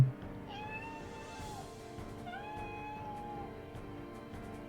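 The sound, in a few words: recorded cat meow from smart speaker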